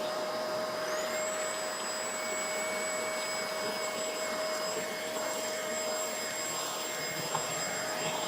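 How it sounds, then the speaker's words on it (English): A steady, loud motor roar with a high whine holds unchanged throughout, a Tineco cordless vacuum and a BISSELL MultiClean vacuum both running at full power. "High power on both."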